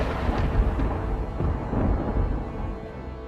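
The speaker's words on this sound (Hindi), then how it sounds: "बिजली तेजी से कड़क रही थी" Thunder rumbles low and heavy during a storm, a rolling roar with a couple of swelling bursts before fading.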